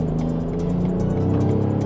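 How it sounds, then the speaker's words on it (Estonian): Steady engine drone of a BMW X7 driving in sport mode, heard from inside the cabin as a low, even hum with light rhythmic pulsing throughout. "Seda sama ilusat mootori häält on nüüd rohkem sisse kuulda."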